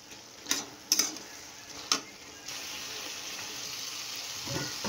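A chicken and potato curry with poppy seed paste sizzles faintly and steadily in the pan, with three sharp ticks of the spoon against the pan early on, then an even, low frying hiss with no talking.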